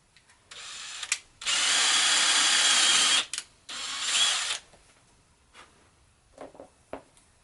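A power drill whirs in several bursts, the longest about two seconds, drilling a 3D-printed part, with short pauses and light clicks and knocks between runs.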